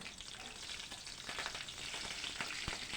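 Dried red chilli and green chillies fry in oil with mustard seeds, making a soft, steady crackle dotted with small pops, fairly faint and heard alone.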